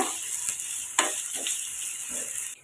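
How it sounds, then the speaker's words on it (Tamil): About 140 grams of ginger sautés in oil for a ginger thokku, giving a continuous bright sizzle with a few soft stirring knocks, close and fairly loud, with no talking. "இப்போ அதே எண்ணெயில் இஞ்சி நம்ம சேர்த்துக்கலாம்"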